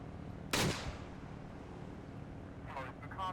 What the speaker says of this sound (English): I'm trying the rockets